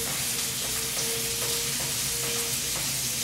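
Vegetables frying in a pan with butter and oil for a shrimp bisque, giving a steady, close sizzle with faint stirring scrapes throughout and no talking.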